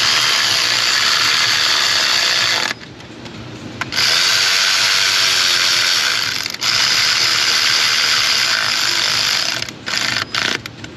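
Fasteners being tightened with a ratchet on a 2015 Nissan Pathfinder, loud rapid continuous ratcheting clicks in long runs, with a pause and a few short bursts near the end.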